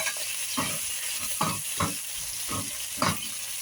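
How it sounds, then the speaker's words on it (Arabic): Potatoes, onions and dried lime fry in a pan for meat tashreeb with a constant close sizzle. A utensil scrapes through them in rhythmic strokes, about six regular stirs. "هاي البوتيتة والبصل والبصرة ونحمر راح ياخذ لون ذهبي"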